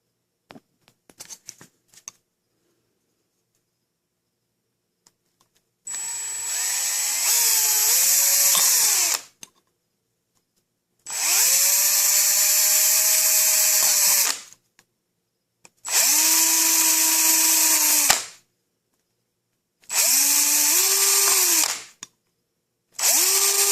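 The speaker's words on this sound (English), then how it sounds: "So I'm going to drill them now." A power drill bores small holes for an alcohol-burning stove in four separate bursts of a few seconds each, whining up and bogging slightly as it bores, with pauses in between and faint clicks at the start.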